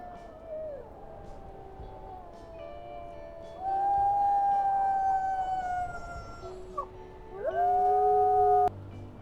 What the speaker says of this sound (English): We can hear the Jardines howling at us